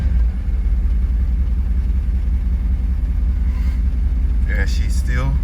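Car engine idling steadily after a fuel pump regulator replacement, a loud, close, continuous low rumble with a brief higher whine near the end.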